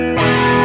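A distorted electric guitar played through a flanger in the Guitar Rig 6 Player plugin: a short, loud, sustained chord with a thick, buzzing tone.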